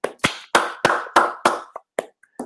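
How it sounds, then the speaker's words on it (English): About nine separate hand claps ring out at an uneven, slowing pace, crisp and close, like a small handful of people applauding during an online show. "Everybody give Christian a round of applause."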